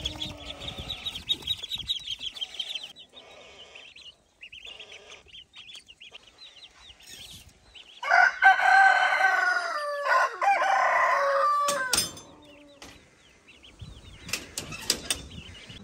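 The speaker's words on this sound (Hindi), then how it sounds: "मुर्ग जो है वो बांगे दे रहा है" Roosters crow in the morning, several drawn-out cock-a-doodle-doo calls, one loud and close in the middle, with clucking chickens and quieter chirping birds around them and no talk.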